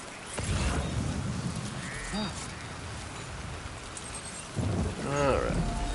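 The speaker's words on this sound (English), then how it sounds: "Just need to get out of the rain for a sec" Steady rain hisses in the video game Death Stranding 2 while low thunder rumbles roll in twice, with a voice talking over parts of it.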